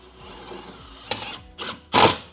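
A power drill drives screws into a wall stud while a storage shelf is installed, giving three short whirring bursts that grow louder, the last the strongest, against faint room noise.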